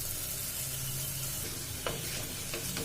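Fresh mint and coriander leaves fry in a pan with oil for coconut milk rice, a soft, steady sizzle broken by faint scrapes and clinks of stirring.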